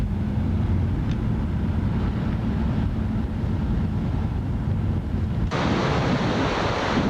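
Kings River flowing below Boyden Canyon Cavern, a steady broadband rush of moving water with heavy wind buffeting on the microphone, growing noticeably brighter and louder near the end; no voices.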